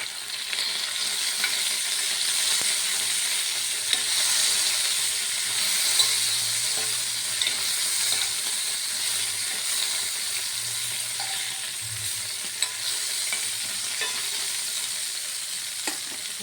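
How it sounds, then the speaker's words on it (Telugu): Ivy gourd (tindora) fries in a pan with a soft, steady sizzle while a spatula scrapes and stirs it now and then, close and moderately quiet, without speech. "దొండకాయ ఫ్రై అయిపోయింది మొత్తం"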